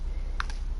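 A dog sneezes once, a short sharp burst close by, heard over a steady low background hum during a Minecraft survival livestream at home.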